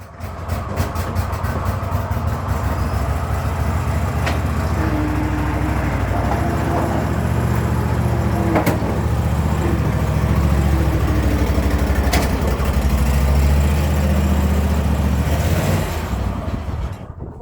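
An old International Harvester tractor engine runs after starting, giving off a continuous loud, rough chugging rumble with steady irregular knocks. It fades slightly at the very end.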